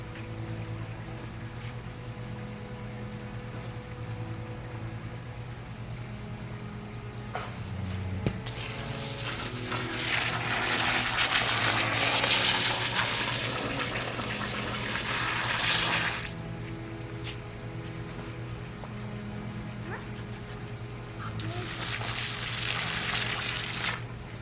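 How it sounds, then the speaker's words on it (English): Water spraying from a hose onto concrete in a garden, a steady hiss that swells louder in the middle and again near the end, over a constant low hum. "We're gonna spray this concrete with some water."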